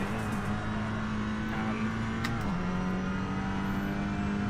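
A racing car engine in the Assetto Corsa video game holds high revs on a straight. It is a loud, continuous, buzzing whine that dips briefly in pitch partway through, then carries on steady.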